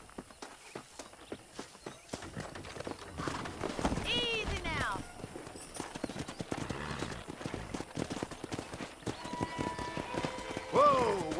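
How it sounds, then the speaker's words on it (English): Horses in the Red Dead Redemption video game: steady clip-clop hoofbeats with a couple of loud whinnies and neighs, heard under someone speaking. "That ranch hand said there's a pack of wild horses nearby."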